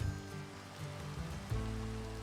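Steady rain falls in Minecraft, a continuous soft hiss of droplets with a low background hum that swells slightly partway through, with no voices.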